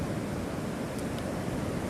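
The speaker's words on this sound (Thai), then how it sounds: "คลื่นแรงนะครับ" Strong ocean surf breaks on Thai Mueang beach in Phang Nga, a steady, dense roar of waves that runs unbroken and fairly loud, with no voices.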